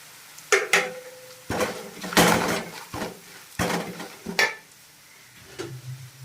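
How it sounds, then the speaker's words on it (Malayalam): Spice powders are stirred and roasted in a pan for a Kerala-style beef fry: several sharp spoon-on-pan scrapes and clanks in uneven bursts, close and fairly loud, with quiet gaps between. "ഇളക്കി ചെറിയ ഒന്ന് മൂപ്പിച്ച് മൂത്ത് മൂത്തിരി മൂത്തതിന് ശേഷം ഈ ഇറച്ചി ഇതിനകത്തോട്ട് ഇടുക"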